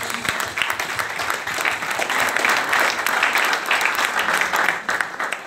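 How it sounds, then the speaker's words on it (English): Loud, continuous applause fills a church hall as the congregation at a Sunday Agape Love Day service claps for themselves, swelling slightly and holding steady for several seconds. "Clap for yourself."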